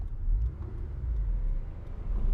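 A Honda S2000 pulls away on the road, a deep, steady engine rumble with a low throaty drone that swells slightly as it drives off, fairly close.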